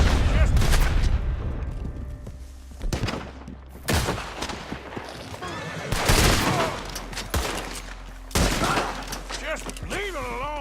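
Gunfire from the Red Dead Redemption 2 video game rings out in several loud separate volleys and bursts, spaced a second or two apart, with faint game voices between them.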